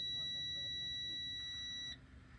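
Truck warning buzzer as the key is turned on during a CDL air brake test, a steady high electronic tone holding for about two seconds before cutting off, over quiet cab noise.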